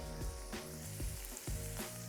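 Onions, bacon, garlic, tomatoes and courgettes sizzle and fry steadily in a pan, close and fairly loud, with a few brief stirring bursts and no talk.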